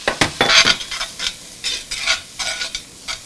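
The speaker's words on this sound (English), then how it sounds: "now we're going to be adding in our onions" One roughly chopped onion sizzles in a soup pot with broccoli and potato, stirred in a quick run of scraping, crackling bursts, close and fairly loud with no talking.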